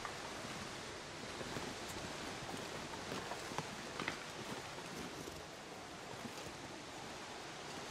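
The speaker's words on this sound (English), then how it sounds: "Nice waterfall." A waterfall in the snowy survival game The Long Dark rushes as a steady, broadband roar of falling water, constant and moderately loud from start to finish with no voices over it.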